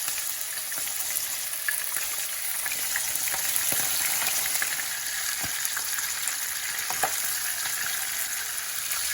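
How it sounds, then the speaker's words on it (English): Fish sizzling and spattering steadily in a pan of hot oil over high heat, a dense continuous crackle with occasional louder pops, heard alone without voices. "Make sure you fry the fish on high heat for a good few minutes until the bottom is firm."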